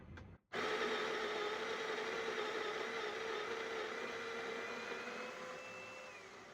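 A coffee grinder grinds espresso beans for home milk drinks, a steady loud whirring drone that starts abruptly after a brief pause and runs continuously, rising slightly in pitch near the end.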